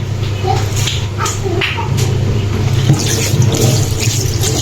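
Water runs steadily from a tap into a kitchen sink basin as it is washed clean with soap, a continuous broadband splashing flow close by, with faint background clatter.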